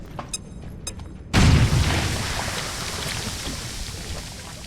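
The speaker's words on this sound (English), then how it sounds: "Throwing grenade." An acid grenade bursting in XCOM: Chimera Squad, a sudden heavy boom after a few short clicks, trailing into a long hissing, bubbling wash.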